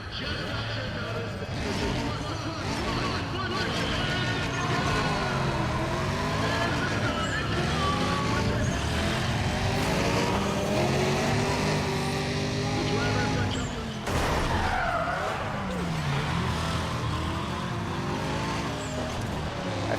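A Pontiac GTO in Need for Speed ProStreet races against Chevelles, its untuned engine revving up and down through gear changes with squealing tires as it slides sideways, loud and continuous, while a voice talks over it now and then.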